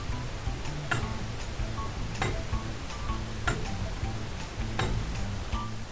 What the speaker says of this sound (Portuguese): O escape é o mecanismo que faz o tic-tac em intervalos regulares